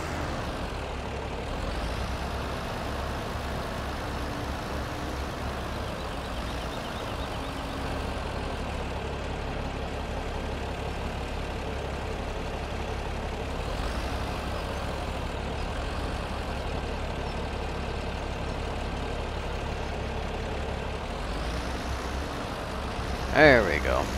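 Tractor engine in Farming Simulator 17 rumbling at a steady low idle throughout, a constant drone with slight swells, while hay work goes on; no voice is heard over it.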